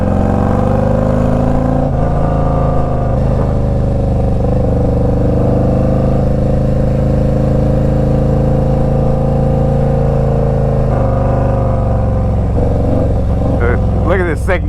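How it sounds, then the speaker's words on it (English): A Street Glide Special FLHXS motorcycle engine runs with a deep, throbbing exhaust note, holding steady loud and close, with a brief rise in revs near the end. "listen to this exhaust on this bike"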